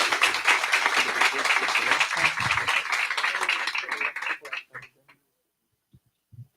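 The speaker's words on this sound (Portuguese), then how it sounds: "eu quero que você receba ele com uma salva de palmas" Church congregation at a celebration service gives a loud round of applause welcoming a guest speaker, dense clapping with cheers that fades out and stops abruptly, leaving near silence.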